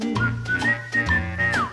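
Someone whistles a short melodic phrase on a street, clear and close, the tone gliding between notes and ending with a downward slide.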